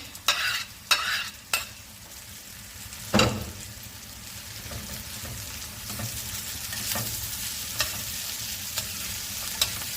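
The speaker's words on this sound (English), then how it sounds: "Now I'll fry it for about 2 minutes, then it's ready to serve." Kapenta fish frying with tomatoes and red, green and yellow peppers in a pan, a constant close sizzle punctuated by several loud spatula knocks and scrapes near the start and lighter stirring taps later.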